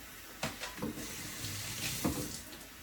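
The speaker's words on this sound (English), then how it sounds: "Gave my hands a quick rinse." A kitchen sink tap runs steadily while hands are rinsed beneath it, making a continuous close hiss of water with a few splashy bursts as the hands move through the stream.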